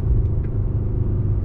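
A 306-horsepower car in sport plus mode downshifts and accelerates hard, heard from the cabin as a loud continuous low engine and road rumble without clear gear changes.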